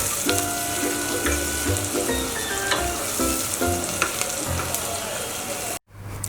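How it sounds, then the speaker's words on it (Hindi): Onions fry in hot oil with whole spices for kaleji and gurda masala, a loud steady sizzle with bursts of stirring and utensil scrapes throughout, then a sudden brief dropout near the end. "प्याज को हमें फ्राई करना है जब तक कि इसमें बहुत ही अच्छा सा गोल्डन कलर नहीं आ जाता"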